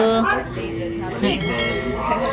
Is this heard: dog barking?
yes